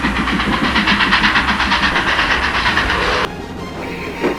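A toy Thomas the Tank Engine train set runs along its track with a steady rolling clatter and rhythmic clicking, loud and close, then drops abruptly to a quieter hiss near the end.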